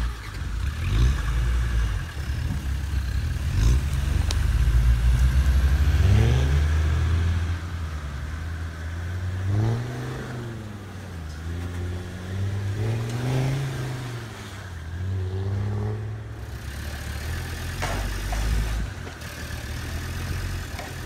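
A red Land Rover toy jeep's engine drones as it drives, rising and falling in repeated revving swells over a steady close rumble.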